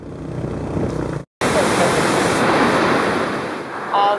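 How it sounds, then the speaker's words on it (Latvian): A waterfall in Mondulkiri, Cambodia pours as a dense, loud rush of water heard nearby, with a brief dropout early on, some wind buffeting on the microphone and a faint sound near the end. "Šis ir pirmais ūdenskritums."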